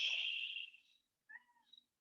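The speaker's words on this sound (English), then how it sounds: "You have a kitten friend who's joining us." A kitten meows indoors during a yoga session, one drawn-out cry that fades, then two short, thin chirping meows a moment later, close and fairly clear.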